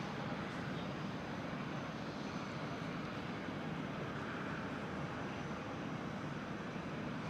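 KLM Boeing 737-900 airliner in SkyTeam livery at Amsterdam Schiphol, its engines giving a faint, even rushing roar that stays constant throughout without talk.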